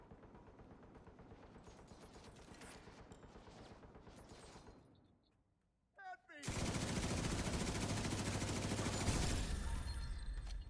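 Machine gun fire in the shooter game Division 2 rattles in rapid bursts, briefly fades to near silence, then returns as a dense, loud, sustained barrage of automatic shots.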